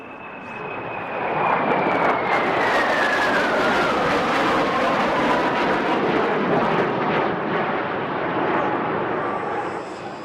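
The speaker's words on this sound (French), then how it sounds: "Les 5 avions à la ligne en flèche se posent enfin sur le site où ils seront stockés." Five Dassault Mirage F1 fighter jets coming in to land at the airfield where they will be retired, a loud, sustained roar of jet engines with a falling whine that fills the whole stretch.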